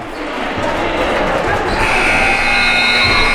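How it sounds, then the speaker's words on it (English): A scoreboard buzzer sounds at a high school boys' basketball game, a steady loud tone ringing out over gym crowd noise and a commentator's voice. "As the buzzer goes off"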